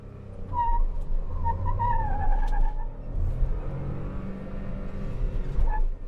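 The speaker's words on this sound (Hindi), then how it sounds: "हाँ एब्सोल्युटली क्रेजी व्हील स्पिन है, क्योंकि ये बहुत ही पावरफुल कार है" Mahindra XUV300 SUV, first gear with handbrake released and traction off, launching hard with a loud engine roar and squealing tyres as the wheels spin, the engine note rising and falling over several seconds close by.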